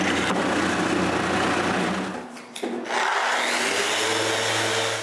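A router fitted with a quarter-round bit rounds over wooden parts for a spinner, a steady loud high-pitched whine with a brief dip in the middle before resuming.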